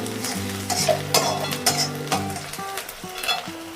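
Chopped onions frying in hot oil for Marathi-style poha, sizzling steadily while a spoon scrapes and stirs the pan in repeated clinks, with a low tonal hum underneath; close and moderately loud, no talking.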